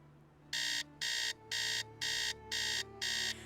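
An alarm clock in the Nancy Drew game Treasure in the Royal Tower beeps in six loud, evenly spaced electronic pulses over faint background music, with no talking.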